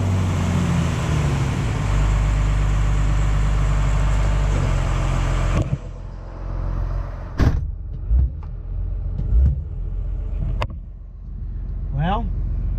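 A Cummins diesel swapped into a truck idles at around 1,000 rpm with a steady, loud rumble, then cuts off abruptly. A few scattered knocks and clunks follow in the quieter stretch.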